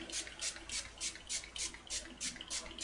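Water from a spray bottle spritzes onto a homemade ink pad, about nine quick, close, hissing bursts in an even rhythm with no voices.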